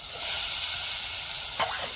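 A spice tempering sizzling in hot oil for a dried pigeon pea dish cooked on a village stove, a steady close hiss with a short louder splutter near the end, no voices.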